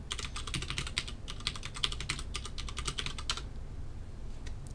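Rapid, crisp keystrokes on a computer keyboard as a new server password is typed, a quick steady burst of clicks that stops about three seconds in, leaving faint background hiss.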